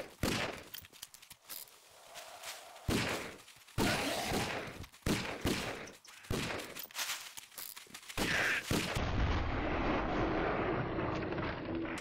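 Gunfire in the video game 7 Days to Die comes in repeated sharp bursts and volleys across the clip, loud and close, mixed with footsteps and shuffling, ending in a steadier noisy rumble; no talk is heard.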